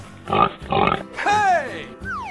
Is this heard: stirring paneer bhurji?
no